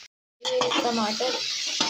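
Chopped tomatoes hit a hot pan during home cooking and set off a steady sizzle with some stirring, close and continuous after a brief silent gap.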